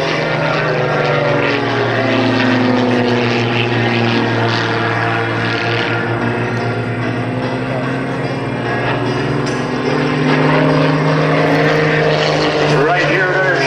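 Propeller aerobatic planes of an airshow team fly a squirrel cage loop at a lakeside airshow, a loud sustained engine drone with shifting pitch as they climb and turn, with a commentator's voice over it.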